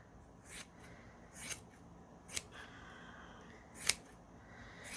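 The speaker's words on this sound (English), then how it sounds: "carefully with my scissors, go through" Four quiet, separate snips of scissors cutting yarn, spaced about a second apart in a hushed room.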